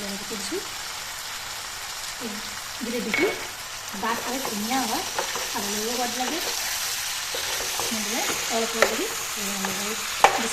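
Chicken curry with tomato being stirred in a sizzling pan, with a steady frying crackle and repeated scraping strokes under a voice talking throughout.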